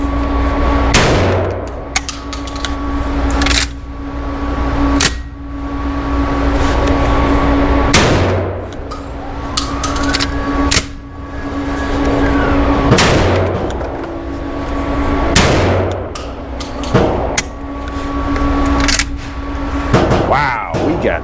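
A Beretta 1301 semi-auto 12-gauge shotgun fires low recoil loads and suffers malfunctions. Loud, sharp booms come singly at irregular intervals of a few seconds, with quieter handling noise and a voice in between.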